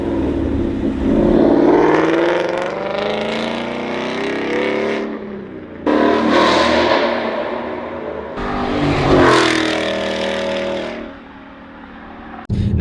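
A Ford Mustang GT with a Roush cat-back exhaust revs loudly and close in several long surges, the engine note climbing and falling between short pauses.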